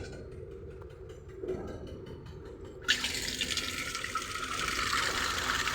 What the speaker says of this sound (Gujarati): બધાય પાણી ખૂટાડી દીધું તો પાણી ભરવા આવ્યું.